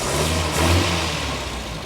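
A truck engine revs up close, a brief, loud, throaty surge that swells and then settles back, with no voices over it.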